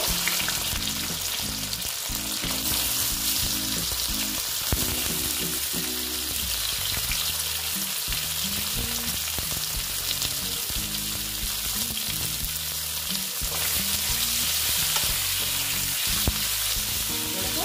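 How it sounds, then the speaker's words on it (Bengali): Small boiled potatoes frying in hot oil for a vegetarian aloo dum, a loud, dense, continuous sizzle with bubbling crackle close up, steady throughout with occasional utensil scrapes. "সেই জন্য আলুগুলো এই যে ভেজে নেব"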